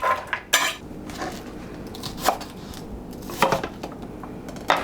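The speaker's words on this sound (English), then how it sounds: "as I cut them, I'm going to put them in a casserole dish" Cut chicken pieces go into a casserole dish, heard as a few close, scattered clinks and knocks of dish and utensil over a quiet kitchen background, no talking.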